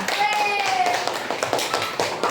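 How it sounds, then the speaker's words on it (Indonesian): Students in a fourth-grade classroom clap briefly, scattered and uneven hand claps close by with children's voices over them. "Tepuk tangan dulu"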